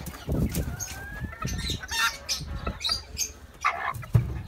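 A Kikiriki bantam rooster clucks and squawks in short bursts while being held, with wing flaps and rustling between the calls, all close up and without speech.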